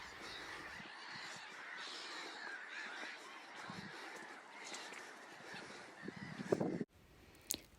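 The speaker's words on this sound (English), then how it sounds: "The noise from the gulls is phenomenal." Gulls call in a large, noisy colony at the RSPB Snettisham lagoons. Dense overlapping honking and cawing continue throughout, with a few louder calls near the end.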